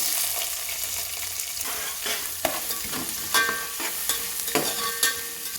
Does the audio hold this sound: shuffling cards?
no